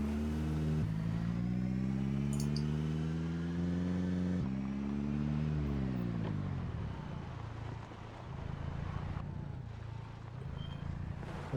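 Car engine in the zombie survival game Project Zomboid, a steady droning hum with rising and falling pitch as the car accelerates and shifts, loud and continuous throughout.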